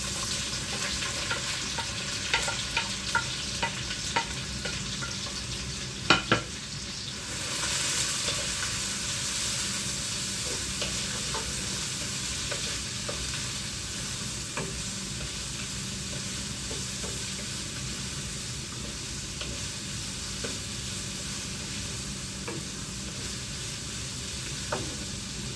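Onions frying in hot oil with fennel seeds for a beef curry, a dense steady sizzle up close with scattered spatula scrapes and a few sharp knocks early on, no speech.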